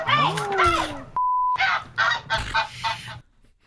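A pet goose honks loudly at close range, a burst of harsh nasal calls, then after a short steady beep several more clipped honks in quick succession before fading out.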